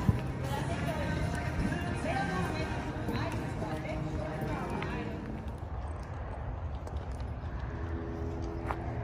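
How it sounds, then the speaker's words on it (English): Rhythmic clip-clop of horse hooves sounds amid a busy crowd with people talking in the background, at Opryland at Christmas. "The horse rides."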